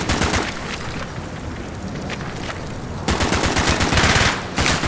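Rapid automatic gunfire rattles through a Call of Duty Black Ops battle, loud sustained bursts with a short lull before an even heavier, dense volley of shots.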